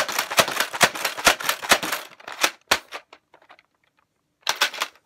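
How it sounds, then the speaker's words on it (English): Nerf Zombie Strike Doominator foam blaster slam-firing, a rapid string of loud close mechanical pops and clacks, then a few isolated clicks, a short silence and another fast burst of shots. "Now we're going to be doing slam fire."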